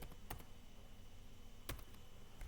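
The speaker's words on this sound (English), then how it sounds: "Just hit some keys on the keyboard, right?" Random keys tapped on a computer keyboard, heard as two short, quiet bursts of clicks with a near-silent pause between them.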